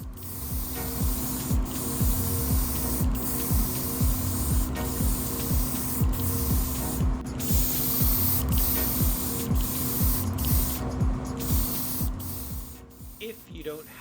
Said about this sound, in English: I will use the TG to cover the body in a light layer of primer to look for any imperfections